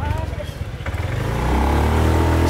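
Motorbike riding through Jakarta traffic on a Gojek ride-hail trip, its engine droning steadily and building louder toward the end, with other vehicles rumbling around and people talking over it.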